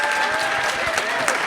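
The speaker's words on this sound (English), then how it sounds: "let's give a big round of applause to our panelists" Loud, dense clapping from a conference audience for a panel at an LGBTQ leaders program, continuous and close, with a voice heard faintly through the applause.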